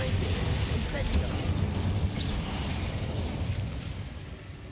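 An Incendio fire spell cast in the Hogwarts Legacy video game makes a dense, rumbling whoosh of flame that swells loud at once, then slowly fades as it burns out.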